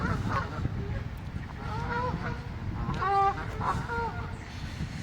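Waterfowl on a park pond at Elmore Park in Rugeley, UK, give several harsh, honking calls in quick bursts at middle distance over a steady outdoor background hum.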